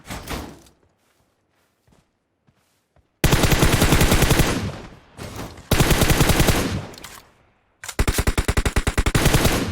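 Loud bursts of rapid automatic gunfire from PUBG Mobile, a short shot or two first, then three long dense volleys separated by brief gaps.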